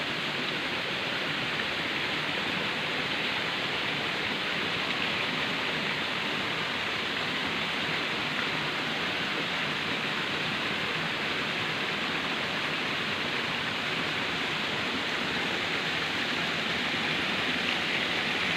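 Rain falls steadily over a forest campsite in the rainy season, a soft, even hiss with no breaks or voices throughout.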